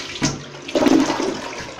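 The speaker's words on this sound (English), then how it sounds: "Let's flush it." A Glacier Bay toilet flushes nearby with a short splash, then a louder rush of water swirling down that fades toward the end.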